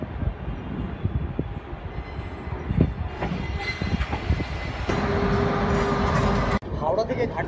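Passenger train running from Howrah to Ghatsila rumbles and clatters along the rails, with a steadier, louder roar building midway and rhythmic wheel knocks throughout.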